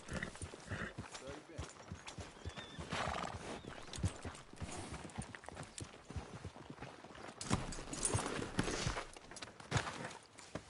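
A horse in Red Dead Redemption 2 snorts and whinnies while hooves clip-clop around it, heard in the game's open-world setting, with repeated hoof thuds and spoken dialogue over the animal sounds.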